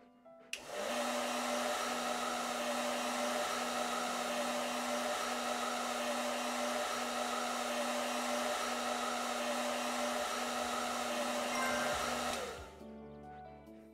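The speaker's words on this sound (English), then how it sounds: "Hair dryer." A hair dryer runs at an animal shelter, switching on with a sudden start and holding a loud, steady whirring roar for about twelve seconds before cutting off.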